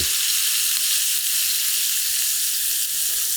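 Steak au poivre frying in clarified butter in a tilted pan, producing a loud, continuous close-up sizzle with no voices.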